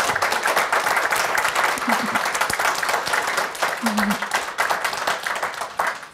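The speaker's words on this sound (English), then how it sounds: "can we give him a huge round of applause?" Audience clapping for a panelist at a law students' alumni weekend panel, a full sustained round of applause with a few voices and cheers rising over it.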